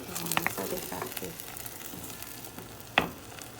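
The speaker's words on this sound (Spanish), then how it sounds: "Ya está hirviendo." Blended tomato sauce boiling in a pan, a steady bubbling sizzle with a few clinks and stirring knocks near the start and one sharp knock near the end, no talk.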